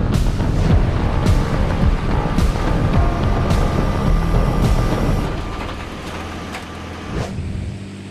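An Armoured Vehicle Launched Bridge on a tank chassis unfolds its bridge span as the scissor cylinder actuates. A loud, heavy mechanical rumble carries clanks and creaks, then eases into a quieter hum near the end.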